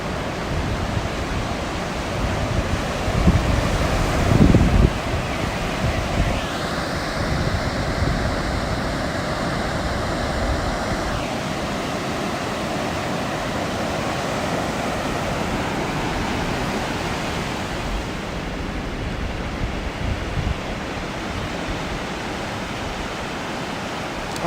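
Ocean surf at a beach at sunrise makes a steady, broad wash of waves, continuous and moderately loud, with gentle swells in intensity and a soft whistling tone partway through.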